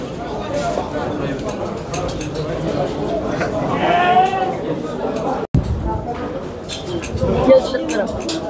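Sheep and goats bleat repeatedly amid the busy chatter of a crowd at a livestock market, with several people talking nearby.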